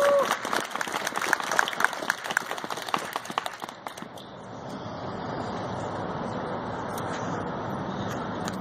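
Outdoor rally crowd at the Alabama Supreme Court in Montgomery gives Reverend Fred Hammond a round of applause, sharp scattered claps for about four seconds before giving way to a steady hiss of roadway traffic noise.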